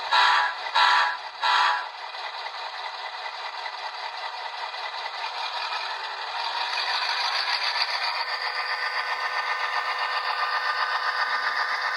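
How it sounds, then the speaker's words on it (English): An HO-scale Bachmann Norfolk Southern F unit model locomotive with DCC sound runs steadily, a few short bursts at the start giving way to a continuous mechanical rattle and hum that grows slightly louder midway, with no talking. "And we'll go ahead and bring the engine back past the camera."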